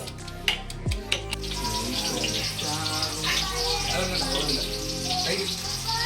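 Cooking oil poured into a pan for a chicken curry, a few clinks at the start, then a continuous close hiss and sizzle that carries on steadily to the end.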